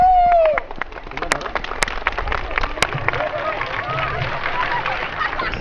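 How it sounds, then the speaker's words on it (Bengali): A school audience at Viqarunnisa Noon School and College breaks into sustained applause after a song, a steady patter of clapping following a brief tone, with voices murmuring underneath. "সবাই হাততালি।"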